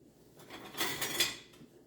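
A spoon stirs garlic in a pot on the stove, making a few soft metallic scrapes and clinks that cluster in the middle of a brief, fairly quiet moment.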